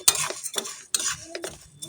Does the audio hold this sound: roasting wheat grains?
yes